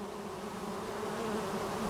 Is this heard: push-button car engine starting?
no